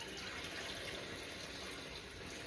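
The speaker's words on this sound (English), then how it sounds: "So now I'm going to add another cup of broth." A steady, close rush of liquid runs as broth is poured into an Instant Pot for potato and ham chowder, an even splashing stream that continues throughout without pauses.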